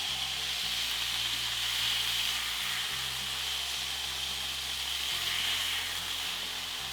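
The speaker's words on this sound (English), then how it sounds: "Once the beef cubes are nicely browned, remove into a plate." Beef cubes browning in a hot pan for garlic butter steak bites, a soft continuous sizzle and hiss under a low steady hum, fairly quiet and unbroken.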